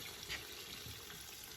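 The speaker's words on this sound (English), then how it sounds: "As the bucket's filling up," Pressed Cabernet Franc wine juice pouring steadily into a bucket, a continuous close rushing splash with no talk.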